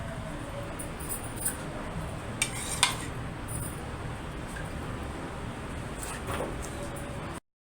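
A spoon mixes macaroni chaat dressed with sweet chutney in a bowl, giving soft scraping and a few sharp clinks of metal against the dish. The sound is quiet and close-up, with a faint background hum.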